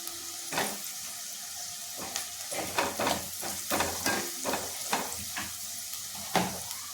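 Red chili powder is stirred into a frying soybean bhaji mixture, a low sizzle under repeated rhythmic spoon scrapes and knocks against the pan, close by.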